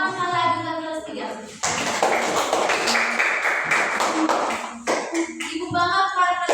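A third-grade class of children claps together in a classroom, a dense burst of many hands lasting a few seconds at close range, with a teacher's voice speaking before and after.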